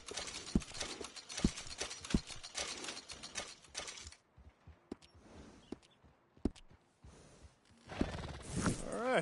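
Horse hooves clop in a video game, a loose run of sharp hits at first, then sparse scattered steps over quiet, with a denser burst of clatter at the end.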